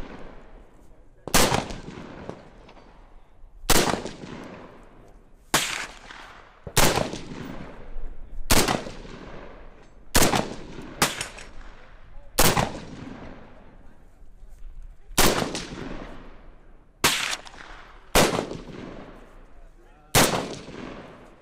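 Palmetto State Armory JAKL bufferless AR rifle fired at an outdoor range: ten loud, sharp single shots spaced about two seconds apart, each with a short decaying echo.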